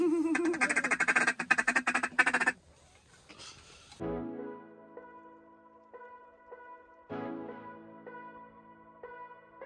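Ducks quack loudly and in rapid bursts during a youth duck hunt, first a dense close chorus, then sparser calls with tonal, honking, call-like notes after a pause.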